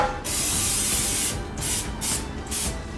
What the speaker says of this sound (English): we want to spray the pan so the brownie mix doesn't stick